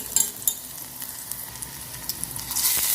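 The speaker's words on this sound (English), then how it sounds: "Let it fry up a little more" Chicken sautés in oil and butter, with a close, steady sizzle and crackle and a few sharp spatters and utensil clicks rising toward the end.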